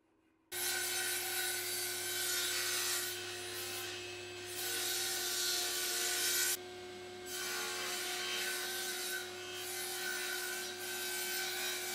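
Table saw running continuously while cutting a rebate along narrow wooden strips, a steady loud whine with small dips in load between passes and a brief quieter gap midway.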